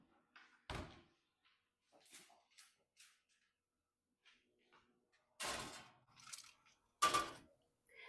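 A home kitchen oven door swinging shut, heard as a few sharp thunks and clunks spaced apart, with a louder pair of slams near the end amid quiet handling noises.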